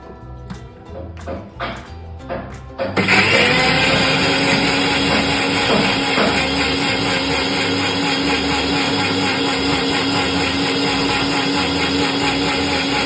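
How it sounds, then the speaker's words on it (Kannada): Mixer grinder running at grape-blending time, a loud steady motor whine that starts abruptly a few seconds in after some short knocks and holds to the end, with no talk. "ಇವಾಗ ಮಿಕ್ಸಿಗೆ ಹಾಕ್ತಾ ಇದ್ದೆ ನೋಡ್ರಿ."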